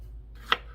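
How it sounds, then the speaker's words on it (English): A single sharp knife chop through a jalapeño on a cutting board, one crisp close knock with a faint second tap after, otherwise quiet. "I'm going to start chopping my jalapenos"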